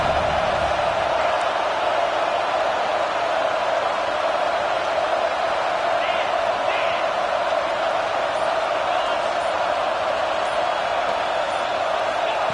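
Steady roar of a college football stadium crowd at a Georgia vs Notre Dame game, a constant dense wash of cheering and noise with no clear peaks, sustained throughout.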